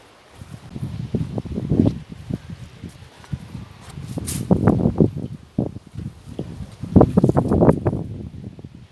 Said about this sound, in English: they're getting battered by these winds